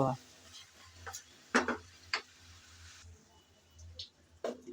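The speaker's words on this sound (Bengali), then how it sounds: "কিছুক্ষণ নেড়েচেড়ে আমি ভালো করে কষিয়ে নিয়েছি" A goat head curry with chana dal is stirred in a pan: quiet background sizzle punctuated by several distinct, irregular scraping strokes of a spoon against the pan, close by and fairly soft.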